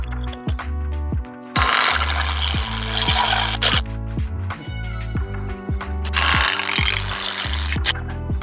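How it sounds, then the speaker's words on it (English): A ratchet clamp is cranked tight on a tomato trellis, sounding as a run of loud, close, rapid mechanical clicks in bursts, with brief pauses between strokes. "use your clamp to pull it tight"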